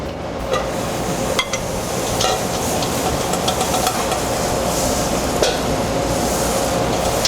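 Three tablespoons of whole butter sizzle steadily in a hot pan before venison goes in, a dense close hiss with a few sharp clanks and taps over it.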